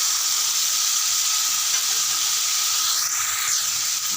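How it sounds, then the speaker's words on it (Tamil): Chopped onion, grated carrot and green chilli sauté in a pan, giving a steady, close sizzling hiss that holds evenly for several seconds with no talk, with a brief rising squeal near the end. "நல்லா ஒரு 5 நிமிஷம் வதங்கட்டும்."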